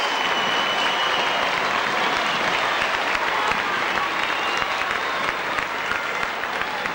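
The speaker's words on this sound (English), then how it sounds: "It's a round of applause" Parramatta rugby league fans applaud at a 1982 match against Wests, a steady, dense wash of crowd clapping that holds at full strength throughout, with faint murmur mixed in.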